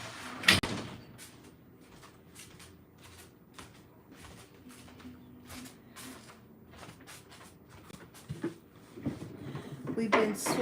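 A cat scratches and claws at an indoor door, producing repeated rough scraping and light thumping bursts at close range, with a louder bang near the start and people talking over parts of it.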